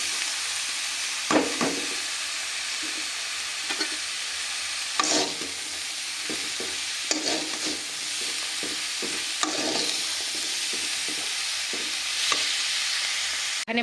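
Boiled banana flower is fried with potato and spice mix in a pan, a continuous soft sizzle punctuated by irregular clattering scrapes of the spatula stirring, close and with no talking.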